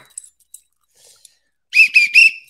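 A whistle is blown three times in quick succession, loud, shrill and close, after a mostly quiet stretch with a few faint clicks.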